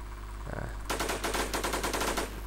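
Gunfire in the zombie shooter video game World War Z: a brief single shot, then a rapid burst of about a dozen automatic rounds in quick, even rhythm, loud over a low background hum.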